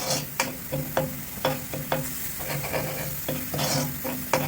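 Garlic sautés in a pan, with a soft steady sizzle under repeated scraping strokes of a utensil stirring the pieces, close and fairly quiet, with no talking.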